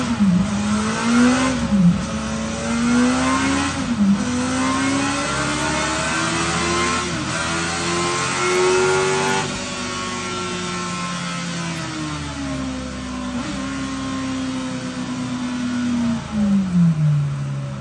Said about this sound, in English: We'll do some pulls for the video, just because everyone likes to hear these things on full song